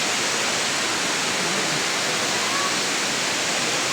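Parkhan Falls in Abra pours down in a steady, loud, broadband roar of rushing water that fills the whole clip without a break.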